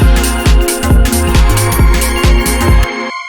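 Ambient garage house synth lead drenched in intense reverb, loud and washed out over punchy kick drums in a steady beat, cutting off at the end with only a brief tail.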